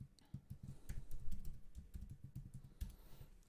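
A password being typed on a computer keyboard during a software install, with quiet irregular clicking keystrokes, close and steady for a few seconds with brief pauses and no talk.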